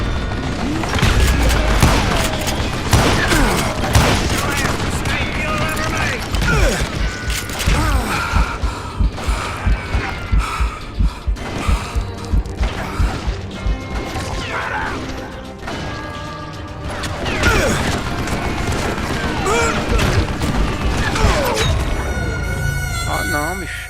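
Reloading a gun in the western shooter Call of Juarez: a continuous run of clicking, ratcheting mechanical clacks and metallic rattles, mixed with gunshots and loud game action.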